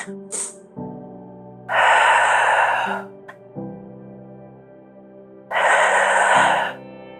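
Deep breaths during an exercise class, two long, loud, close airy inhales or exhales separated by quieter passages with steady tonal background music.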